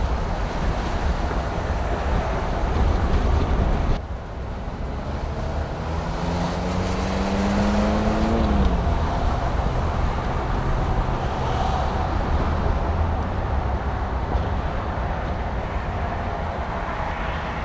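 Custom Jeep CJ5 driving along, a continuous loud rumble of engine and road noise mixed with heavy wind buffeting, a brief rising engine tone in the middle, close and constant throughout.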